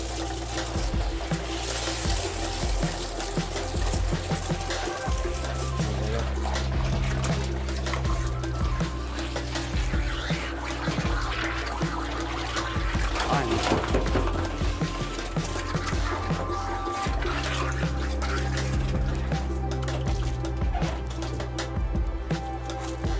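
Running water rinses a Labrador retriever during a grooming bath, a steady continuous splashing and trickling that stays fairly loud and even throughout, with no talking over it.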